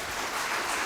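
A church congregation applauds the Lord together, a dense, even wash of clapping filling the room for a brief moment.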